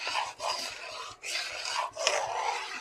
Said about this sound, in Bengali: ডিমের মিশ্রণটা দিয়ে এবার অনবরত এখানে নাড়তে হবে